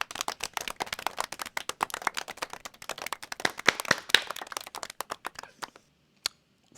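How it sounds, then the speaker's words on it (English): A small round of applause, sparse close clapping from only a few hands, sharp irregular claps that thin out and stop, with a single late clap near the end. "Let's start with a round of applause."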